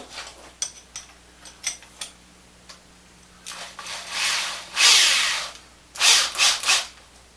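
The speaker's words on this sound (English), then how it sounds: "Hopefully that'll work better in this drill." A power drill with a spade bit bores into hard hickory in short bursts, with clicks and taps between, building to longer, louder grinding spurts near the end.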